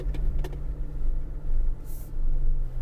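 Tank 300 2.4 diesel 4x4 off-road, turning in low range with one rear wheel braked, a low steady engine rumble with a couple of sharp knocks and a brief hiss, close and continuous.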